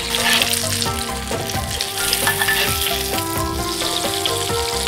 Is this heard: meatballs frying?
yes